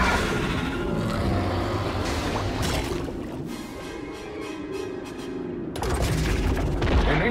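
Blaster fire in LEGO Star Wars: The Skywalker Saga during The Phantom Menace battle, a dense, loud barrage of rapid shots and booms over a steady rumble, continuing almost the whole time with a brief dip near the middle.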